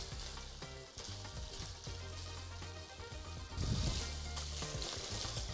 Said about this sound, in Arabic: وهنقلب الكلام ده كله مع شوية زيت زيتون